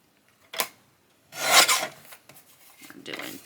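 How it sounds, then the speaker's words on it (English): Paper for an envelope journal is cut with a small paper trimmer. A short scraping stroke is followed by a longer rasping slide and then a softer one, close and quiet. "Let's trim this edge off here."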